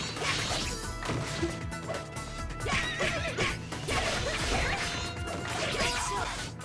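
A horse neighs amid dense battle noise in the video game Samurai Warriors 2, with constant clashing, whooshing strikes and crashes mixed together at a steady, busy level.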